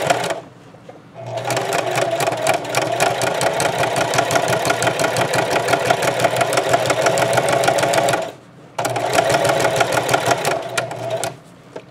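A sewing machine stitching a half-inch bottom seam on a tote bag made from placemats, with a loud, fast, steady needle rattle that pauses briefly and then runs on again.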